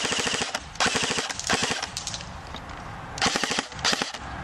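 CYMA Chicago Typewriter Thompson airsoft gun firing full auto on a 9.6 volt battery, several short rapid mechanical bursts of fast clattering shots with brief gaps between them, close and loud.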